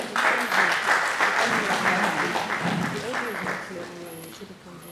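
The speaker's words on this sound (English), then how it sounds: "Please quick clap." Audience applause at a university energy symposium panel session, a broad wash of clapping from the hall that fades over several seconds while voices murmur and talk underneath.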